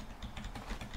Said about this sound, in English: you might hear my keyboard